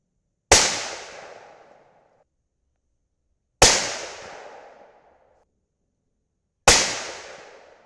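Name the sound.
rifle shots during scope accuracy test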